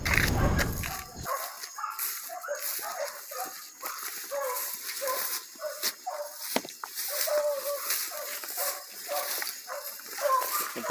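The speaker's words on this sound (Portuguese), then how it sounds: "A cachorrada trabalhando aí, ó." A pack of hunting dogs bark, yip and whimper in rapid, overlapping bursts during an armadillo hunt in the brush, mostly near, with a loud rustle at the start and brief voices mixed in.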